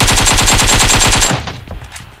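Loud, close automatic M4 rifle fire in the mobile game PUBG Mobile: a rapid burst of about a dozen evenly spaced shots that stops abruptly, leaving a few faint trailing echoes.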